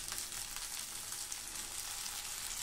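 Tharsoli frying in oil in a pan makes a dense, steady close-up sizzle that holds at an even, fairly loud level throughout.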